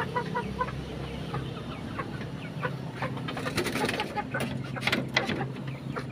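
Chickens in a Filipino backyard coop with breeder hens, clucking and calling repeatedly at close range over a steady low hum, with bursts of cackling toward the end.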